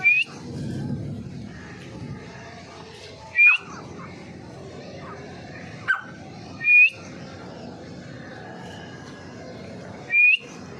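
A male Iranian partridge (teetar) calls from a fifth-floor perch in rainy weather, giving four short, sharp whistled notes spaced a few seconds apart over a busy background of distant voices and ambient noise.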